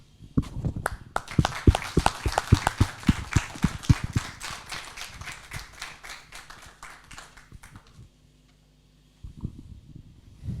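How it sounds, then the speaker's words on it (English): A conference audience at a regional air transport leaders panel applauds, with dense steady clapping that builds, fades out around eight seconds, and is followed by a brief quieter stir. "join me and applaud our panelists for a great job they made"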